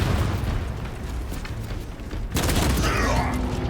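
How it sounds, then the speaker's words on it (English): A frag grenade blast in a Space Marine 2 PvP match: loud rumbling game combat with heavy gunfire, then a sharp booming burst, with a player talking over it. "Tossing frag grenade."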